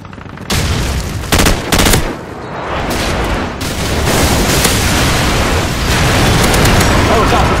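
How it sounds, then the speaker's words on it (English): Airstrike explosions in Call of Duty 4 hit as loud, close booms and rumbling blasts, with sharp bursts early on and a dense, continuous roar of detonations afterwards. "Friendly airstrike on the way."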